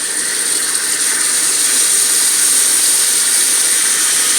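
Water poured into a hot pan with salmon fillets, cooked with ginger sauce, gives a steady, loud steaming hiss that holds evenly throughout with no talk over it.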